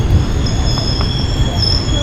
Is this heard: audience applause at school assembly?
no